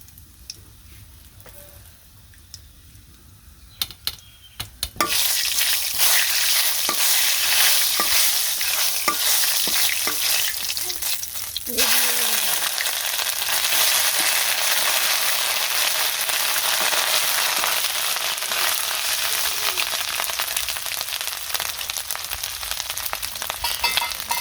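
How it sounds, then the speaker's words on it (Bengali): Cumin seeds, dried red chilies and cinnamon hit hot oil for village-style khichuri, a quiet clink or two then a sudden loud, steady sizzle and crackle that continues close and unbroken. "আর দারচিনি, এই দিয়ে দিলাম জিরে, দিয়ে দিলাম শুকনো মরিচ"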